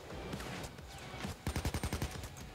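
Rapid gunfire from the heist shooter game Payday 2, a burst of about eight evenly spaced shots following scattered earlier shots, loud and close with no talking over it.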